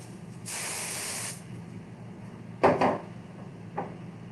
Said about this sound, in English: I like to spray it with a little bit of cooking spray